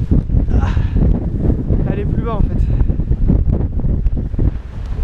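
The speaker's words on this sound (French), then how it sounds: "il y a masse de vent" Strong wind at Glengesh Pass, a mountain pass in Ireland, buffets the microphone in a constant loud roar while people talk in French over it.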